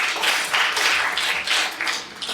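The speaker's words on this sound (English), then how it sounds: "I do want to give them a round of applause for the 5 ideas." Audience applause, a steady wash of many hands clapping, loud and sustained, tapering slightly toward the end.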